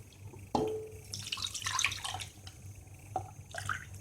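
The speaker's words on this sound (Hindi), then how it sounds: "कढ़ाई लगा ली है गैस पर। हम इसमें पानी डालेंगे सबसे पहले।" Water is poured into a kadhai on a gas stove for a semolina snack, splashing and trickling in uneven bursts with a few sharp clinks, fairly quiet over a low steady hum.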